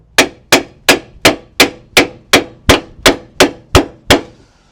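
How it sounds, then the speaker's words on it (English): A copper hammer striking a car suspension wishbone, eleven sharp metallic blows at an even, brisk rhythm, loud and close with short ringing decays. "with a copper hammer, I'm going to hit there while pushing down"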